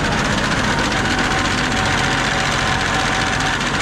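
A steady, low tractor engine idle rumbles continuously with a rough, knocking undertone and constant vibration, close and fairly loud.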